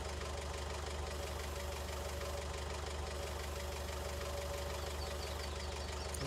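Forklift engine from the farming game Farming Simulator 19, a steady idling drone with a low knocking rumble holding evenly throughout, close and constant with no talk over it.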